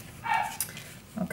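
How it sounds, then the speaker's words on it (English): A dog barks downstairs, a few short muffled barks and yips from another room, heard alone and at moderate volume. "Someone is playing down below, downstairs with my dog. So I don't blame him that he is barking."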